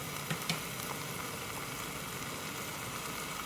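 Chili powder going into pig meat frying Kerala style, with a constant dense sizzle and a couple of faint light taps near the start.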